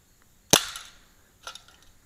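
Two shots from a Colt Defender CO2 replica pistol: a sharp, loud crack followed by a short decaying tail, then a second, fainter pop about a second later, with no talk.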